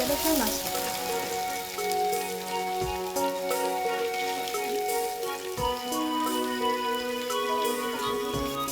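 Pieces of potato and Malabar spinach stem fry in oil with a dense, steady crackle and hiss, punctuated by a few soft knocks, close up.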